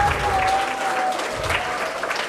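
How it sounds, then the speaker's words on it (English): Audience applauding a student author at a school children's book day event, a soft, steady patter of many hands with a faint tone running underneath. "let's give a round of applause to Advita"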